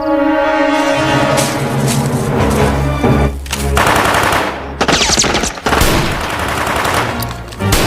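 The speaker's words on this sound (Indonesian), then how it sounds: "Si Raymond pun terpaksa untuk lari karena kondisi baku tembak yang tidak menguntungkan dirinya" Rapid gunfire exchange in an action film about a kidnapping and manhunt, dense bursts of machine-gun and rifle shots rattling loud and continuous with brief gaps, no voices.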